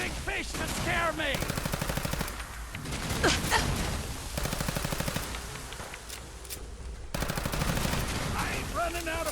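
Gunfire in Fallout 4, long bursts of rapid automatic shots that stop and restart several times, loud and close, with someone speaking between and over the bursts.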